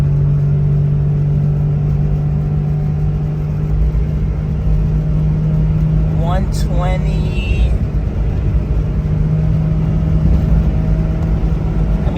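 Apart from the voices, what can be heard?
Honda Z car accelerating on top speed run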